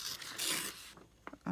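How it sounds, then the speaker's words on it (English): Paper page being torn by hand in a journaling craft session, a close ripping burst followed by a longer tearing stretch and a few short final rips, quiet and without talk. "So I'm just gonna tear this like so."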